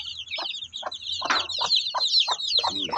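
Eight breeding hens of a backyard flock cluck close by in a steady stream of short, repeated calls, with higher chirping from other chickens running continuously behind them.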